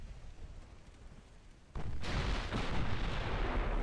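Naval guns firing armor-piercing shells in the naval strategy game Ultimate Admiral Dreadnoughts: quiet rumbling background, then a sudden loud heavy boom that sustains into a dense, roaring blast lasting several seconds.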